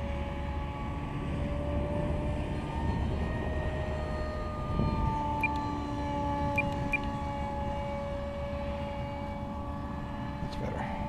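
An Aero L-39 jet engine at about half throttle during a morning sortie gives a steady, loud whine with sustained tones that drift slightly, continuous throughout.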